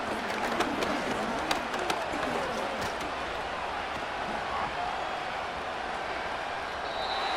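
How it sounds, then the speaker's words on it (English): A stadium crowd roars in a Madden 26 NFL football video game, Cardinals versus Saints, a dense continuous cheering wash with scattered sharp claps and shouts, loud and steady throughout. "This crowd turning up the decibel level."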